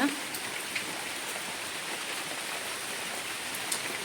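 Heavy rain falls steadily on a waterlogged surrounding, a continuous even hiss of drops with a few sharper patters, and no voices over it.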